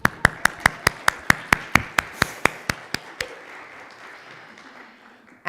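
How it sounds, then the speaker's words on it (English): One person claps about fourteen times in a steady, evenly spaced rhythm, each crisp clap loud and close, after church service music at a Sunday morning service, then stops and leaves a quiet room. "I'm going to clap again"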